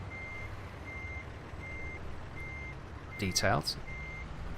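A truck in American Truck Simulator backs up with its reversing beeper sounding, a faint, evenly spaced series of beeps running under a low engine rumble. A voice speaks briefly near the end.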